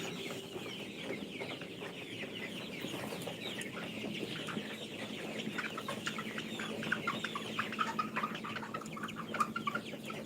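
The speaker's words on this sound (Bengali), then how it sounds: "এটা একটা মুরগি" Chickens cluck steadily and fairly close on a farm, with repeated short calls layered over a constant background of other birds and farmyard noise throughout.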